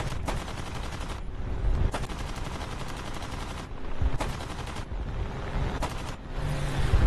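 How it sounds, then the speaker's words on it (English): Aircraft cannons fire in War Thunder, with rapid bursts of loud, close automatic fire repeating in several separate volleys broken by short pauses, over a steady engine drone. "Those cannons aren't going very far."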